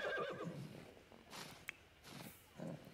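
A horse in The Sims 4 whinnies, followed by softer snorts and rustling, fairly quiet with a brief click partway through.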